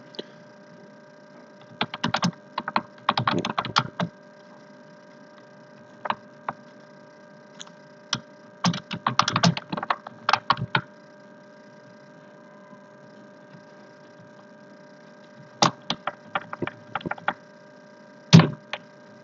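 Someone types on a computer keyboard in a quiet room, producing clusters of quick close key clicks separated by pauses, with isolated single taps between the bursts.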